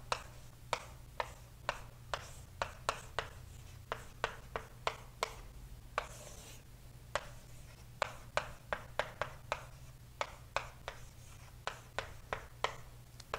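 Math being written on a board, a long run of sharp, irregular taps and short strokes from the marker or chalk, close and clear, with no voices.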